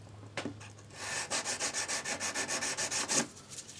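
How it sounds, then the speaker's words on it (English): Edge of a sanding stick rubbing back and forth in the groove of a swirl ring, a quick run of about fifteen even, close rasping strokes after a couple of preliminary taps. "I'm just going to drop the edge of my sanding stick then in that groove."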